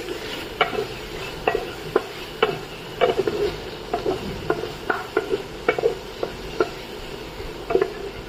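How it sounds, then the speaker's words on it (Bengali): Prawns fry in a pan with a steady background sizzle, and a utensil stirs them, giving irregular scraping taps close by. "দিয়ে একটু ভালো করে ভেজে নেবো যতক্ষণ না পর্যন্ত চিংড়িগুলো সিদ্ধ হচ্ছে"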